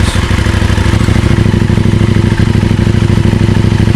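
A KTM 790 Adventure motorcycle running with its exhaust baffle removed gives a loud, steady, deep engine note with a fast throbbing pulse that continues unbroken throughout, with no one speaking.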